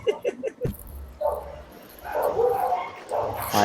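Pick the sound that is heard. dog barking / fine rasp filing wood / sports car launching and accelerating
dog barking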